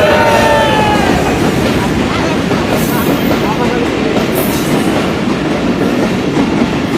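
A train on the Dhaka to Khulna route rolls past loudly and close, a dense continuous rumble and rattle of wagons with a brief whistle-like squeal at the start.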